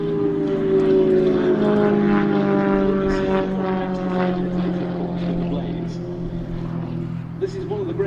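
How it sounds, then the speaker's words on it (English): An Extra 300S aerobatic propeller aircraft drones steadily overhead at an airshow, its engine tone loud and continuous with harmonic layers, while a commentator talks over it. "This is one of the great aerobatic aircraft produced by the West, named for its founder, the German aerobatic pilot and aeronautical engineer Walter Extra"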